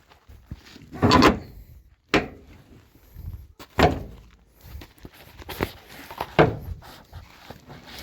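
The door of a 1949 Chrysler Windsor car is worked open, with several distinct thunks, clunks and latch knocks spaced a second or two apart, close and fairly loud against a quiet background.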